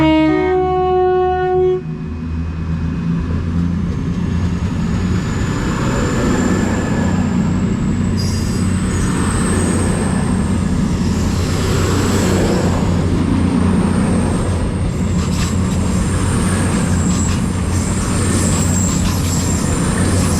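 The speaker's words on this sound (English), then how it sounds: "the partner now is 10:38 cross-country service to Birmingham New Street, calling at Birmingham New Street only from Reading" A CrossCountry class 220 diesel passenger train works through Birmingham International station on the West Coast Main Line. Brief tonal notes open over a loud, sustained engine drone with a rising whine, and no one speaks.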